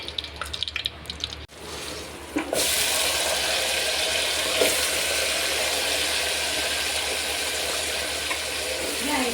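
Vegetables tempered in hot oil in a home kitchen: after a few faint clicks, a loud, steady hiss and crackle of frying starts and runs on without a break.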